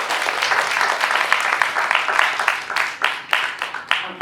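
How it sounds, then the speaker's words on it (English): Audience applause after a HeForShe panel discussion at Webster University Thailand, a steady wash of many hands clapping with distinct sharp claps standing out, sustained throughout at moderate loudness. "Big round of applause for all."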